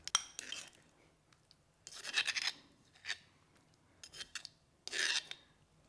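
Thick spice paste scraped from a blender jug into a bowl, a few short rasping scrapes with faint clinks between quiet pauses.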